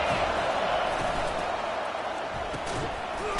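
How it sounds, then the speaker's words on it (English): A stadium crowd roars and cheers in the NCAA 25 college football game on a third-down defensive stand, a broad, steady wall of noise throughout with a commentator's voice talking over it. "Decibels rising as the crowd gets behind this defense on third down."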